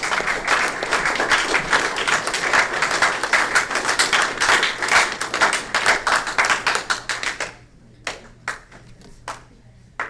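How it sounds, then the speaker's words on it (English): A crowd applauding scouts at a troop court of honor, loud dense clapping for about seven seconds that thins abruptly into a few isolated claps at the end. "Give them a round of applause."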